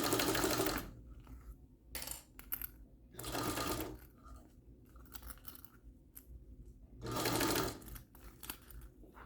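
A sewing machine stitches a bag seam in three distinct bursts of rapid needle chatter, each a second or so long, separated by quieter pauses with faint handling noises.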